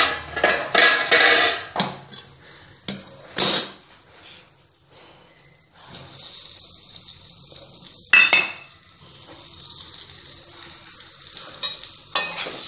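Onion pieces stirred into brinjal chutney in a pan, with scraping spoon strokes and clinks of metal against the pan in irregular bursts, separated by quieter gaps with a faint sizzle.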